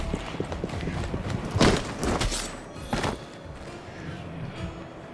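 Horse hooves clip-clop on a hard street in the Victorian London of a Jack the Ripper video game, a steady trotting rhythm with a couple of louder thumping steps, close and clear over a low ambient background.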